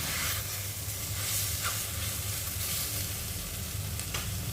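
Chicken with tomato and onion sizzles and crackles steadily in a hot pan, a dense, continuous frying hiss that stays close and fairly loud throughout.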